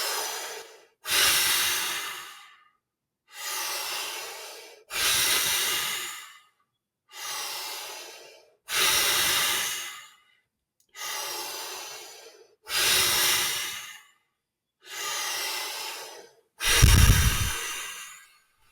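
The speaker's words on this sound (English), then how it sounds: "I call it a positive disruption, a bellows breath." Bellows breath during a guided breathing exercise: about nine strong, forceful exhalations and inhalations in a steady rhythm, each a loud, close, rushing breath separated by brief pauses, the last one heaviest, with no speech.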